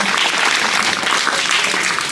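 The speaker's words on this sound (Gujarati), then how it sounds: "સરસ તાળીઓથી અભિવાદન કરે છે" Applause from a village gathering after children perform a play, a steady dense wash of many hands clapping that fills the whole moment without pause or voices on top.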